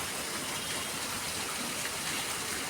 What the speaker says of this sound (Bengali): জলটা দেখো পড়ছে কি সুন্দর গড়িয়ে